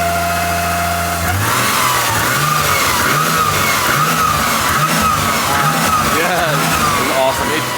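RB26DETT straight-six engine swapped into an R34 Skyline idling smoothly and quietly nearby, with a steady low hum and a faint rhythmic pulse, while people talk over it.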